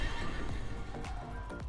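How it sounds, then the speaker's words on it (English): Horse whinnying from the Warframe game's Dagath horse companion, a loud neigh set over dense in-game music and effects, with faint hoof clip-clop beneath it. "Wait, is that a horse or all the horses?"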